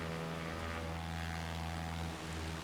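A simulated Cessna 172 SP propeller engine in X-Plane 11 hums at a steady, even drone, continuous and fairly quiet with a low rhythmic throb.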